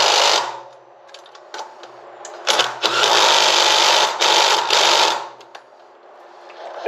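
A power tool spins lug nuts onto a cargo trike wheel, with bursts of whirring and buzzing that start and stop, loudest in two long runs midway and quieter at the start and end.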